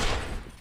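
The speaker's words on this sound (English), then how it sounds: "I'm getting my ass absolutely shot." Gunfire in the third-person shooter Binary Domain, a dense burst of rapid shots at the start that thins into scattered cracks, with a sharp final report near the end of the brief moment.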